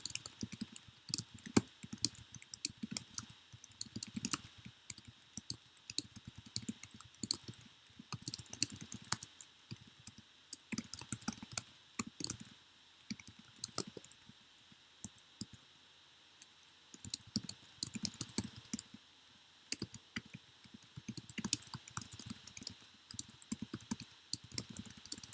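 Computer keyboard typing a sentence for note-taking, with irregular bursts of quick, close clicking keystrokes separated by short pauses, no talk.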